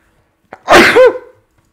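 A single loud, close sneeze bursts out with a short sharp onset, then trails off within about a second, with no talking around it.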